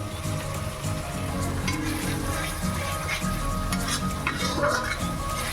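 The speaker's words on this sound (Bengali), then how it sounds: "এদিকে দেখো এটা নিয়ে আমি নাড়িয়ে দিচ্ছি" A curry with yogurt and kasuri methi being stirred in a pan, with steady sizzling and frying beneath continuous scraping of the spoon, close and even throughout, no voices.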